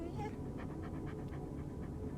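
A dog pants in quick, steady breaths in the Goosebumps: Escape from Horrorland video game, the rapid huffing close and fairly soft over a low game background.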